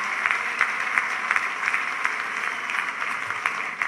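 An audience at a charity fundraising event applauds for a few seconds, a steady patter of many clapping hands with no voices heard.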